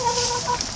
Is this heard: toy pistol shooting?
no